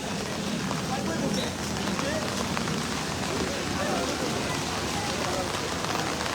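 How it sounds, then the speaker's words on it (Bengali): Rain falls outdoors at a cattle market, a dense, steady hiss of drops on surfaces that stays constant and fairly loud throughout. "দেখতেই পারতেছেন, বৃষ্টি পড়তেছে"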